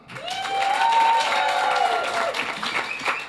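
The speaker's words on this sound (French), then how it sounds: "je vous demande d'applaudir Nadra." Studio audience applauding on a French live show, clapping swelling quickly and holding steady, with a sustained tonal musical note over it before tapering off.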